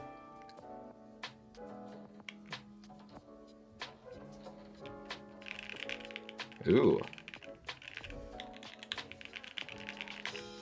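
Brisk clacky keystrokes tap out in bursts on a Vega 65 mechanical keyboard with PBT keycaps, close and crisp, with a short vocal exclamation breaking in midway.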